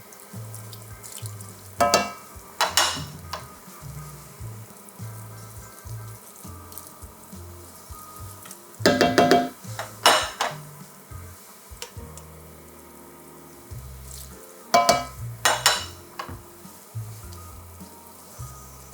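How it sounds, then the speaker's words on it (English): Risotto alla Milanese rice being stirred in a pot, wet scraping strokes arriving in short clusters between quieter stretches of soft bubbling and light ticks. "we continue to stir, rubbing the grains against each other for the starch to be released"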